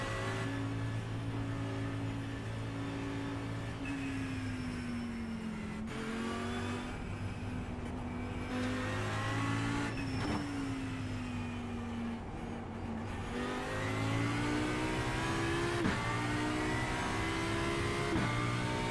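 A race car in the sim game iRacing does a long burnout, its engine holding a high, droning rev that rises and falls in waves with shifting pitch, loud and continuous, with no voices.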